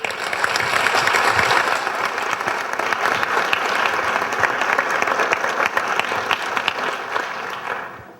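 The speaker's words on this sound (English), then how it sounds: "it's my pleasure to invite you to present a warm hand of applause" A crowded audience applauds steadily to welcome a speaker at a facilitation session, dense even clapping filling the room from start to finish before fading slightly at the end, with no voices over it.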